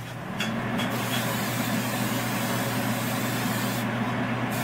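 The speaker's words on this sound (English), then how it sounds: "I'm going to spray this" Cooking spray hisses onto a cast aluminum stovetop Belgian waffle iron in one continuous, close, steady spray lasting several seconds, with no talking.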